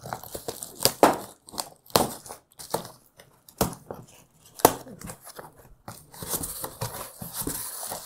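A package being opened by hand, with irregular crinkling, tearing and crunching of packaging material in short bursts, fairly close and loud, with brief pauses between.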